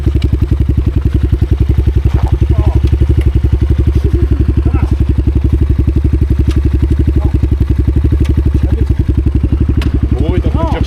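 A Thunder 250cc or GST 300cc motorcycle idles roughly right up close, its engine keeping a steady, rapid thumping pulse from start to finish while voices talk over it.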